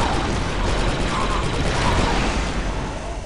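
Rapid blaster fire in the video game Star Wars: Republic Commando crackles in a steady barrage, with faint talk underneath.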